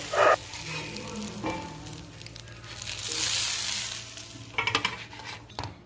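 A homemade pizza dosa topped with cheese and homemade chili roasts on a hot pan, giving a steady sizzle that swells into a broad hiss midway, with a few sharp utensil clicks and scrapes at the start and end.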